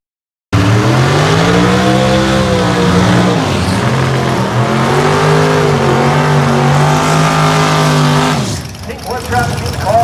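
A bracket-class drag racing car at Maryland International Raceway launches and screams down the strip at about 140 mph, a loud sustained engine roar with rising pitch under a track announcer's voice, then fading away near the end.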